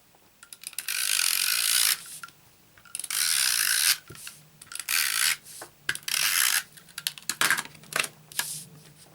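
Snail adhesive tape runner rolled across a card base during card making, giving several close, rasping clicky bursts of a few seconds each with short pauses between.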